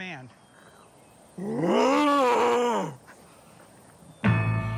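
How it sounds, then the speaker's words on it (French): A trained lion roars on command before a microphone, giving one long, deep, throaty roar in the middle, close and loud, with quieter sounds before and after. "L'animal était si bien dressé qu'il pouvait rugir sur commande."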